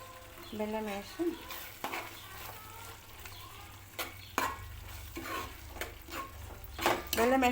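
A spoon scrapes and stirs through thick bitter gourd curry with jaggery in a pan with soft sizzling underneath, irregular knocks and scrapes repeating close by.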